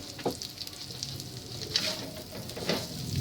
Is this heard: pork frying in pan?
yes